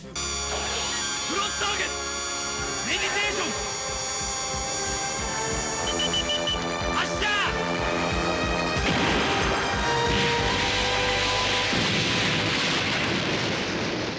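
The Jet Cannon energy cannon from Hikari Sentai Maskman fires loud blasts. Crashing explosions follow one another amid dramatic music and shouting voices.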